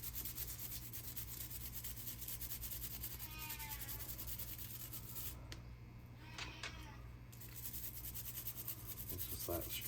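Small metal parts of a Crain no. 730 utility knife get scrubbed by hand, a soft continuous rubbing and scraping that keeps going for about ten seconds at moderate level, with no one speaking.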